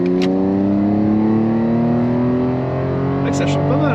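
A Cadillac STS engine revs and sings at high pitch, steady and loud, with a couple of brief clicks over the drone.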